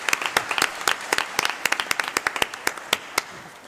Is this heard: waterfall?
no